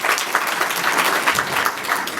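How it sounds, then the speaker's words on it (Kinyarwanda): Dense, steady applause from a large audience at an event, sustained rhythmic clapping filling the space with no speech over it. "reka mbyeyi dukomere amashyi twese"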